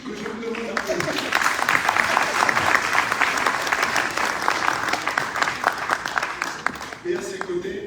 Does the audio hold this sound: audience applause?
yes